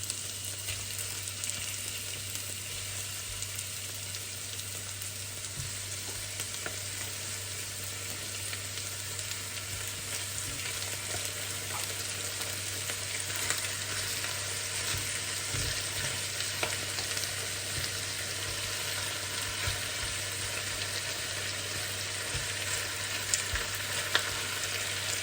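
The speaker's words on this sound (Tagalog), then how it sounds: "Habang piniprito natin to siya guys, itong manok, sinasabay sa ating mga ginger" Chicken pieces fry in a pan with ginger for Filipino-style chicken curry, giving a continuous, even sizzle with faint crackles and occasional stirring clatter, no voices.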